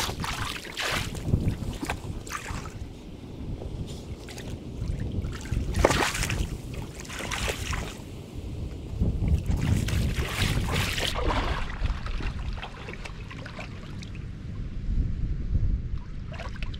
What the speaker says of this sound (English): It's currently quite a windy day